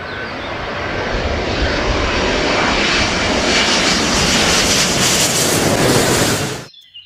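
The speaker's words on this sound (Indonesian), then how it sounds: "ada pesawat terbang." A loud, steady airplane engine roar associated with a toy airplane, droning evenly for several seconds before cutting off abruptly, with no talking.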